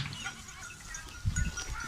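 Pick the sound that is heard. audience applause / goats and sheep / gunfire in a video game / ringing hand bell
goats and sheep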